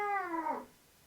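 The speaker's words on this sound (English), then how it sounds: "The cat made that noise?" Single drawn-out yowl from a cat in heat, loud and close, with a wavering harmonic cry that bends downward and fades out after about half a second.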